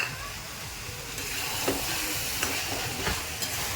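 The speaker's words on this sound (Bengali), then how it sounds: "সব কিছু একটু এইভাবে নাড়াচাড়া করে নিতে হবে।" Chicken or mutton keema with fresh tomato paste being stirred in a pan, a steady close sizzle with occasional scraping knocks of the spoon against the pan.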